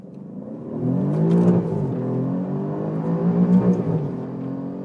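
A 2017-onward facelift Alfa Romeo Giulia Quadrifoglio accelerating hard uphill in manual mode, the engine rising loudly in pitch with audible upshift breaks between climbing revs, heard up close without talk.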